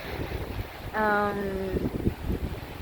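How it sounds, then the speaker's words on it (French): Strong outdoor wind buffets the microphone with a steady low rumble throughout, joined midway by a brief harmonic voice-like tone in the Dordogne countryside. "J'espère que vous m'entendez parce qu'il y a beaucoup de vent."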